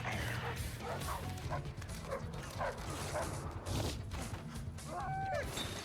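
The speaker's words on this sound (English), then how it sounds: "there are dogs in this alley" Several dogs bark and yip in a city alley during a film scene, sharp repeated barks rising over a steady background bed, with a short whimpering call near the end and some voices mixed in.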